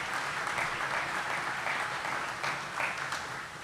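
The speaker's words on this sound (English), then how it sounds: "How about a big hand for Cade, our Mountaineer." Audience in an arena gives sustained applause for a university mascot, the Mountaineer, at a West Virginia announcement ceremony; steady dense clapping throughout, fading slightly at the end.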